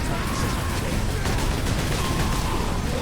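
Dense, continuous gunfire and battle noise from the Warhammer 40k Space Marine video game, a constant loud wash of shots with no clear breaks.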